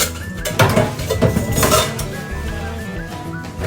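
A pot and spoons are washed by hand, with steady clinks and clanks of metal cutlery against the pot and dishes throughout, close and fairly loud, with no talking.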